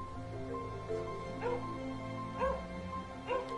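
A dog in the game Gravity Rush 2 gives a few short whimpering yips and barks, spaced about a second apart, fairly faint over a steady tonal game music background with no talking.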